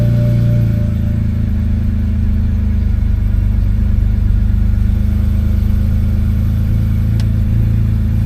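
A BMW E90 3 Series engine idles after a VANOS solenoid replacement, making a loud, steady low hum with a smooth even drone that holds constant throughout, close to the car, with no voices.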